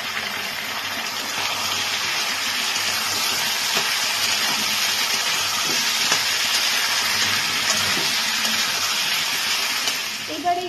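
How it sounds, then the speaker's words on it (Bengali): Potatoes and chopped radish frying in a pan for a Bengali vegetable dish, giving a steady broadband sizzle throughout with occasional soft stirring clatters, close and continuous with no talk. "আলুটা কিছুক্ষণ ভেজে নেওয়ার পর এবার আমি এর মধ্যে কুচিয়ে রাখা মূলোগুলোকে দিয়ে দিচ্ছি"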